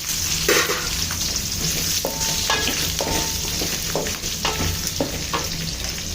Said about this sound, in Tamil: ஒரு அஞ்சு பெரிய வெங்காயம் கட் பண்ணி வச்சு அதை போட்டு